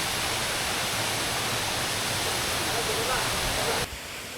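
Saingpra waterfall in Bandarban, a loud steady roar of falling water filling the scene close by, with a voice speaking over it before the rush drops slightly at the end.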